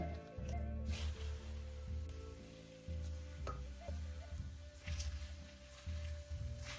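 Tomatoes frying in a pan for tomato rice, stirred with a spoon: a soft sizzle under repeated scraping strokes that come in a steady rhythm about once a second, close but fairly quiet, with no talking.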